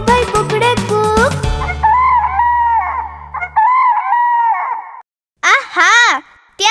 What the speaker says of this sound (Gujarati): બોલે કુકડો જાગી જાઓ